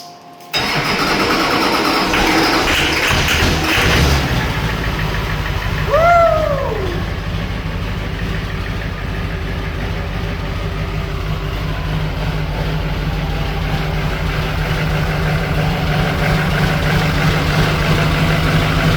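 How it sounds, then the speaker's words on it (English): A Duramax diesel engine swapped into a C10 truck cranks and fires in a cold shop, then settles into a loud, steady diesel idle that runs on alone. "I'm just going to cycle the glow plugs again. And we'll see if it'll go."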